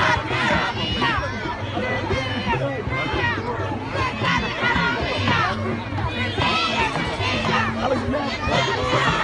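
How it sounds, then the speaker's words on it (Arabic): A large crowd of Sudanese American marchers moves through Washington between Congress and the White House, a dense, continuous hubbub of many overlapping voices and shouts close by. "الجماهير على امتداد البصر"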